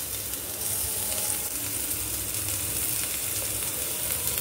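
Onions sizzling steadily in hot oil in a pan while being fried for fried rice, a dense continuous hiss with a faint clatter of stirring and no talking.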